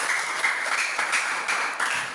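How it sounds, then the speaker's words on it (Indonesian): Schoolchildren clapping together for the graduating sixth-grade class at SD Somi, a dense, steady burst of applause lasting a couple of seconds. "tepuk tangan untuk semuanya"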